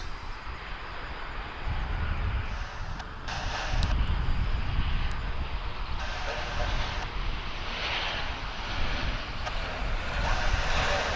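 A Delta airliner at Dallas/Fort Worth International Airport gives a steady, broad jet roar that swells and eases slightly over several seconds, heard from a distance outdoors.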